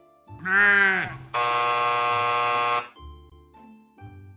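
A loud wavering bleat like a sheep, then a flat, steady buzzer tone lasting over a second, followed by quieter low sounds.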